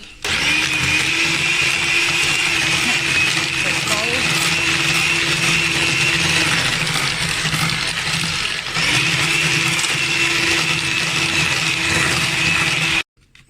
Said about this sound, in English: you need to beat them one at a time into the mixture